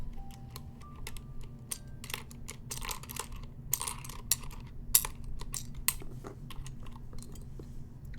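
Mechanical keyboard fitted with NovelKeys Silk and Dry linear switches being typed on, a run of close, crisp keystroke clacks in irregular bursts and pauses over a steady low hum, with no voices.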